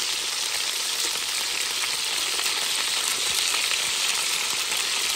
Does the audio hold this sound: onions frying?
yes